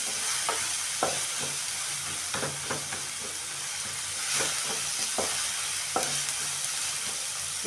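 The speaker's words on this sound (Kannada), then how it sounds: "ಅರಿಶಿನ ಪುಡಿ ಹಾಕಿಬಿಟ್ಟು ನಮಗೆ ಸ್ವಲ್ಪ ಫ್ರೈ ಮಾಡೋಣ." Turmeric powder frying in hot oil in a pan, a continuous sizzle and hiss broken by scattered scrapes and taps of a spoon stirring, close and fairly loud, with no talking.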